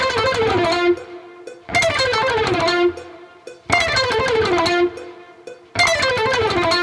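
Electric guitar with alternate picking plays fast single-note phrases, each started too early, in four bursts separated by short gaps, loud and alone.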